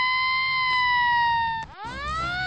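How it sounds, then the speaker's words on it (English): A loud, close siren wails steadily, then drops and starts a fresh rising wail. "What's going on here? What's all the sirens?"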